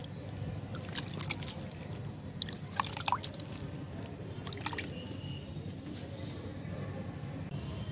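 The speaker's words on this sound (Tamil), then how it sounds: "இப்போ தண்ணி தெளிச்சிடலாம்." Water is sprinkled onto the soil of a seed pot in a terrace garden, giving a few soft, scattered drips and patters over a steady low background hum.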